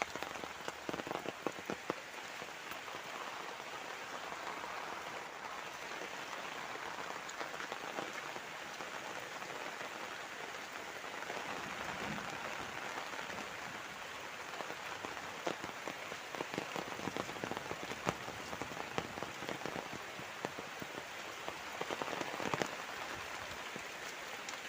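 Heavy rain pours down steadily on a lush village, a dense continuous hiss of drops striking surfaces with scattered louder patters, unbroken for the whole stretch.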